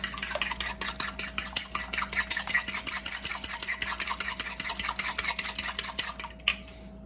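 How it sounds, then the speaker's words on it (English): Eggs scrambled in bubbling butter in a hot iron skillet, a utensil scraping and tapping against the pan in rapid, even strokes over a soft sizzle, close up, ending with one sharper knock. "Right before it's about to brown, we'll go ahead and scramble these eggs up."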